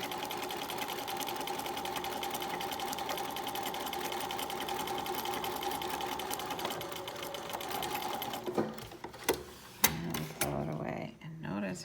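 A sewing machine runs steadily for about eight seconds while stitching a fabric sample, then stops; back-stitching follows in a few short, sharp bursts of the machine with pauses between them. A voice talks over it.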